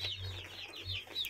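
Domestic chicks being fed give several close, soft, repeated peeps and clucks in quick succession, alone over a faint low hum.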